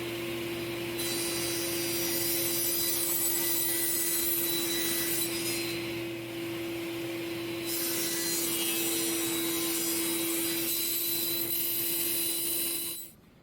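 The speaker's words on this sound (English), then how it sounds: "we're just going to flatten these out with the table saw" Scrap fence wood slats are fed through a table saw to flatten their edges, with a loud steady motor whine under a rough, continuous rasp of blade on wood that swells and eases as each pass goes through, ending as the cut finishes.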